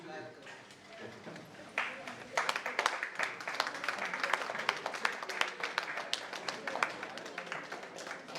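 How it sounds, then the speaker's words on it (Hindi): Audience applause welcoming a guest at a cooperative training event, a dense wash of many hands clapping that swells and continues steadily, with a voice talking over it early on. "जोरदार तालियों से"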